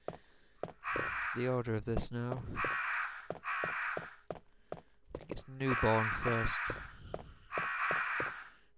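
Crows caw repeatedly in a Resident Evil game, harsh bursts arriving in clusters across the stretch, with someone talking between and over them and a few footstep taps.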